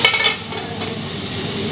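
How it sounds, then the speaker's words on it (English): Pieces seasoned with salt and turmeric fry in a pan, with a steady broadband sizzle and a few soft scraping or stirring knocks near the start. "Now just let it fry, let it cover."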